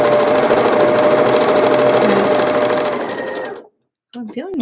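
Sewing machine stitching a quilt block for a Civil War sampler pinwheel block, running loud and steady for over three seconds before stopping, followed by a brief voice.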